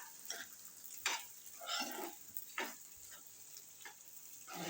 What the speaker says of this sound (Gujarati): હવે આપણે આને મિક્સ કરી દઈશું